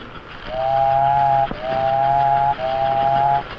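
A 1950 American Flyer model electric train on two-rail track gives a steady mechanical rumble while its whistle sounds three times in a row, each long blast separated by a brief pause.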